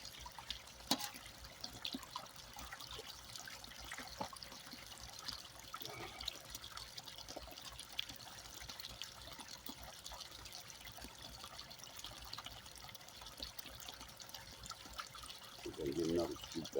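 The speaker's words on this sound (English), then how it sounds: "Need a little bit more water in the bucket" Water trickles and splashes steadily into a bucket at a gold and gem mine during cleanup, with small irregular clatters and a quiet bubbling surge near the end.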